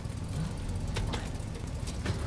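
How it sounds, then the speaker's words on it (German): A car driven in the video game Resident Evil Village: a steady, fairly loud engine and road rumble throughout, with a few brief sharp clattering transients over the drone. "Das war klar, dass wir das Auto nehmen, um rauszufahren."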